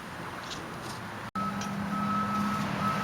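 A truck backing up outside gives off a steady electronic reversing tone that starts partway through and holds, heard faintly from a distance over low background hum.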